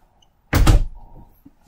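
A double pocket door in a 2019 Jayco White Hawk 32KBS travel trailer slides shut with one loud close thud, followed by a short fainter rumble as it settles, then quiet.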